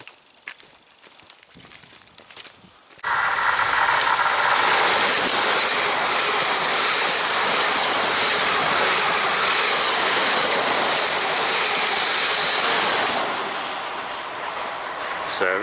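A train runs on the railway line to Waterloo in the Hampshire countryside. After a quieter start with light footsteps, it arrives suddenly, loud and near, and keeps up a steady rushing roar with wheel clatter for about twelve seconds.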